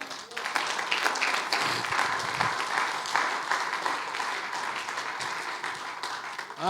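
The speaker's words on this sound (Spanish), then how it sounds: "Palmas al Señor." Church congregation clapping together during a service, a dense, steady wash of applause from many hands filling the room, continuous and fairly loud from start to finish.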